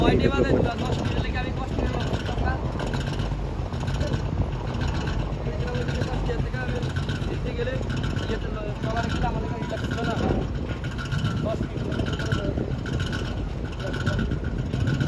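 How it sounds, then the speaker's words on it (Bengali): A river ship on the Tetulia slowing down to berth at a ghat gives off a steady, continuous engine rumble mixed with wind buffeting the microphone, and the drone holds evenly from start to finish. "এখন হচ্ছে গতি ডেভেলপমেন্ট করতেছে কোচঘাটের জাহাজ এটাকে বাতিং করবে যার জন্য স্লো করেছে"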